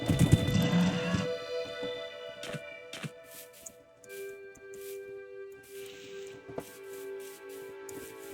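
A Minecraft horse makes a short burst of snorting and neighing at the start, followed by soft scattered clip-clop steps and faint game tones in an otherwise quiet scene.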